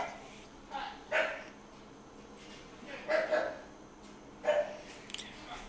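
A dog lets out a few short, sharp barks and yips in separate bursts spaced roughly a second apart, heard fairly close in an apartment with no talking over them.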